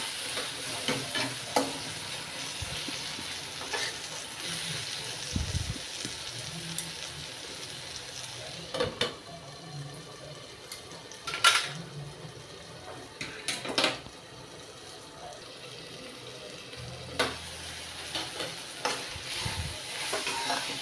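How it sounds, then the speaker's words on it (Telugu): Tomatoes fry for wheat rava upma in a pan, giving a soft continuous sizzle with intermittent scraping stirs and occasional clatters of the utensil, close and without talk. "టమాటాలు కూడా బాగా వేగాలి వేగితేనే బాగుంటుంది"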